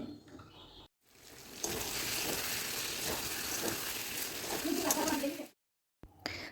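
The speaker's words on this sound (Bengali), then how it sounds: "এখন আলু আর সয়াবিনটাকে মশলার সাথে আরও চার থেকে পাঁচ মিনিট এইভাবে কষে নিতে হবে" Potatoes and soybean chunks sautéed with spices in a pan give a close, steady sizzle and frying hiss with stirring scrapes, cut off by brief silent gaps at the start and end.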